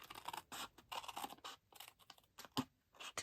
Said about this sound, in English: I'm going to cut right along that score line there